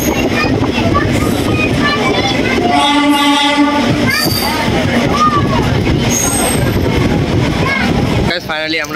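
A train pulls into Bagdogra railway station with a loud rumble, clanking and rattling wheels, and sustained high metallic wheel squeals, while people talk over the noise.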